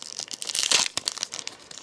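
A Pokemon trading card booster pack from a Legendary Treasures blister pack is torn open, its foil wrapper giving a close, loud burst of crinkling and ripping that fades into lighter rustles.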